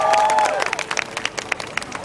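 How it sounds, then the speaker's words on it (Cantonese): Passersby at a Hong Kong street performance clap, a burst of scattered handclaps that starts dense under a lingering sung note and thins into irregular individual claps. "俾掌聲唔該。"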